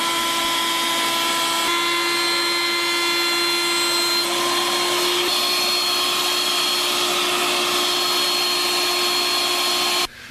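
A handheld wood router joins a board edge while a vacuum draws chips away right at the cutter, a loud steady whine with sustained tones that runs continuously and then cuts off abruptly near the end.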